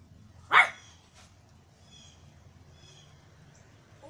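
A person imitates a dog barking, giving one loud, short bark-like yelp near the start, then only faint room noise afterward.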